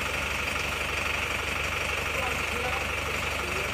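Steady idle of a rebuilt Isuzu Panther diesel engine, close and continuous with an even knocking clatter and a hum that holds unchanged throughout.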